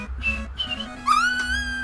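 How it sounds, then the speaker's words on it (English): A person whistles and squeaks in short bright bursts, two brief tones followed by a longer rising squeaky whistle, close and loud over a low background hum. "You don't like me whistling and squeaking at you?"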